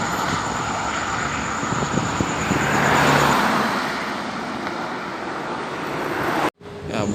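A tour bus drives past on a road toward Dumai, its engine and tire roar rising to a peak midway, then fading into steady traffic noise before a brief cut near the end.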